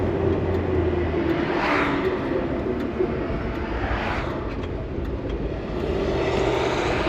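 A Dodge Dart's engine drones steadily and loudly from inside the car as the gas pedal is pressed, a continuous rumbling roar with faint rising surges but no sharp rev climb.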